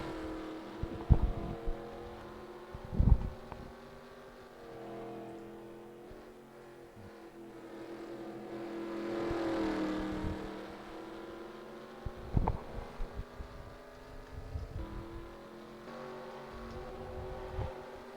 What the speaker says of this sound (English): Some cars are getting very slow as well.